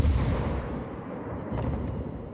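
Main battery of the battlecruiser Alaska firing in World of Warships, a deep rumbling boom that fills the whole moment and rolls on steadily without a break, no voices over it.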